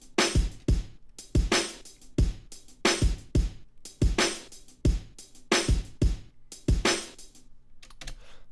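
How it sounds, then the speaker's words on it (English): Soloed hip-hop drum beat from a three-element kit: steady, punchy kicks and crisp snare hits repeating in a tight loop, dry and isolated with no other instruments. "But the drums soloed out sound like this."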